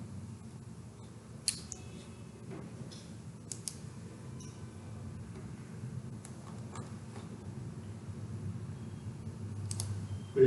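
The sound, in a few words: computer mouse clicking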